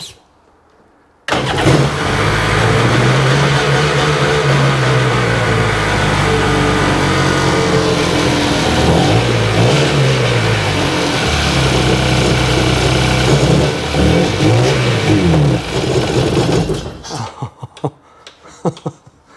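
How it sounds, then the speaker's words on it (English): Sea-Doo GTX jet ski engine from 2002 under repair, starting and then revving high and steady for about fifteen seconds, loud and close, with rising and falling pitch swells before cutting off abruptly. "Why is that revving up so high?"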